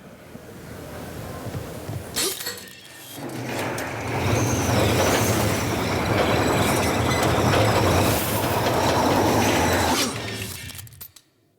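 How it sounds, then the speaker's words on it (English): Loud rushing wind and rattling, rumbling motion of a Skyline rail ride in BioShock Infinite, building and holding steady before cutting off abruptly. "the sound effects of the wind coming by you and the thing shaking"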